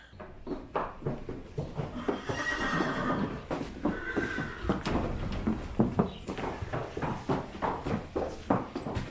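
Several horses whinny and neigh close by while hooves clop in an uneven rhythm, with rustling and movement throughout.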